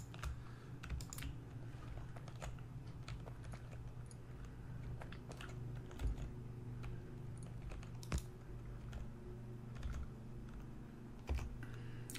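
Quick, uneven clatter of fingers typing on a computer keyboard during a Factorio session, close and soft, with scattered sharper key taps and no voices.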